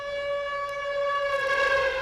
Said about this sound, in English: Sirens went off in Omaha at 4:29